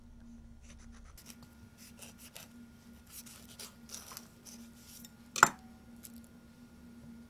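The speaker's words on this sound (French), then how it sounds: "Je coupe l'avocat en deux." A knife slices through an avocado on a cutting board, with faint scraping and tapping followed by one sharp, close knock as the blade strikes the board, set in a quiet kitchen.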